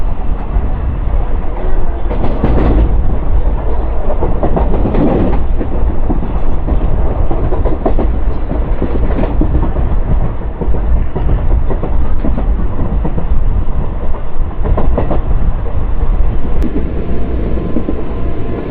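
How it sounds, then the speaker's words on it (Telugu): The Palnadu Superfast Express, with ICF coaches on the Guntur to Vikarabad route, rumbles past loud and close in a steady roar, with faint rhythmic clatter from the wheels throughout. "అదిగోండి మన ట్రైన్ ఒక ఫుల్ వ్యూ అది."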